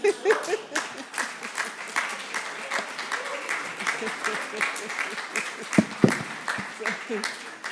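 A conference crowd at a climate roundtable applauds steadily throughout, a dense patter of many hands clapping with a couple of louder individual claps near the end.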